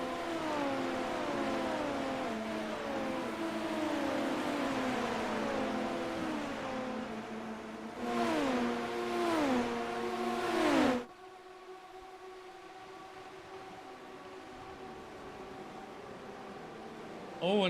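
Formula race cars on the Miami circuit in iRacing, several engines whining through repeated upshifts and revs, layered and overlapping, with a sudden cut to a thinner, quieter engine drone near the end.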